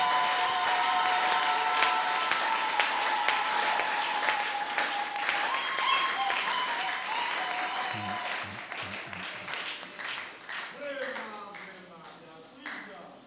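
An audience at a Sunday church celebration claps loudly and continuously, with a few cheers. The applause starts strong and fades gradually over several seconds while a voice speaks toward the end.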